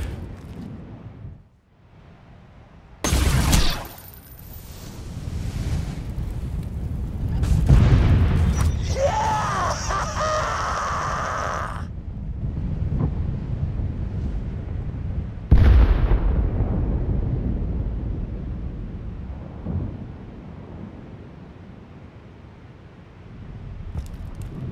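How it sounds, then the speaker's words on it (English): Fire-weapon blasts destroy scouting blimps in a village in the Borderlands 2 video game, Assault on Dragon Keep, with several sharp booming explosions, one around three seconds in and another near fifteen seconds, and rumbling crackle between them. "blow up the village of scouting blimps with the fire weapon"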